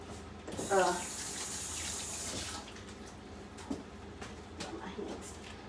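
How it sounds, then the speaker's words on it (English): Hands are washed under a running kitchen tap: a steady rush of water for about two seconds, then faint splashes and handling noises as a person speaks nearby. "And again, I'll wash my hands again."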